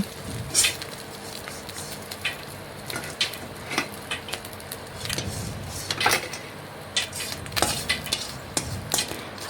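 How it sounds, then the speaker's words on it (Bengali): Oil sizzles steadily in a pan as small puti fish fry, broken by clinks and scrapes of utensils against cookware. "মাছগুলো ভাজা হয়ে গেছে এখন আমি মাছগুলো তুলে নিচ্ছি"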